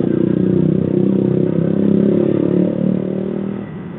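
A loud motorcycle with a racing exhaust drones raspily, holding a steady rumble before easing down at the end.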